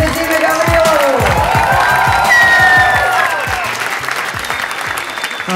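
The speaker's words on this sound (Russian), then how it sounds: "наш аплодисменты Диме Гаврилову" Audience at a live comedy roast in Russian breaking into loud, sustained applause mixed with cheers and whistles, a dense crowd sound that fades slightly toward the end.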